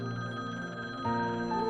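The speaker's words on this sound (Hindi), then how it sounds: "कोई कॉल उठा ले, बज रहे हैं फोन कब से।" A telephone bell rings steadily indoors in a household, its tone shifting slightly partway through, with no voices over it.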